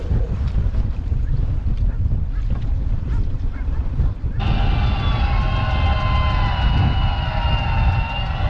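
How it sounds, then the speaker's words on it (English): Wind buffeting the microphone at sea aboard a lobster boat, a constant loud rushing roar with engine drone, sharpening into a harsher tone in the second half. "She's certainly breezy today."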